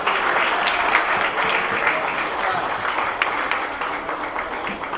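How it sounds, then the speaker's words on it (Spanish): Sustained applause from a large conference audience, dense steady clapping filling the whole stretch without pause. "Merecida ovación para el maestro Iván Gatón por esta conferencia magistral"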